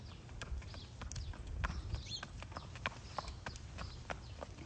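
Hooves of the champion turf mare Dayatthespa and her Medaglia d'Oro filly walking, a steady irregular clip-clop of light hoof strikes on a hard surface over low outdoor rumble, with a few faint bird calls.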